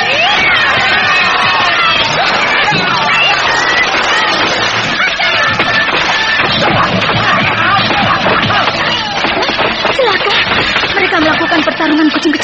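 A radio drama sound effect of cats meowing, yowling and fighting in a dense, loud tangle of cries lasts throughout, mixed with crowd-like shouting and voices.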